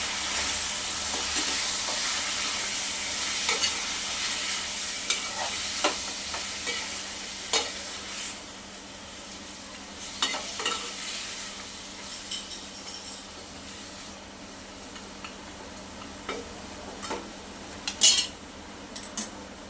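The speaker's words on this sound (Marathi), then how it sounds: "तेलामध्ये परतून द्यायचे आपल्याला चिकन व्यवस्थित" Chicken sizzles steadily in hot oil while a utensil scrapes and clinks against the pan in irregular stirring strokes.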